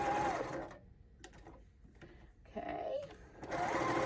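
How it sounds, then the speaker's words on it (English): A sewing machine whirs in short bursts while stitching a Santa pot holder, running loudly at the start and end with a quieter pause between, and a voice speaks briefly. "we're going to sew this and leave an opening so we can turn it"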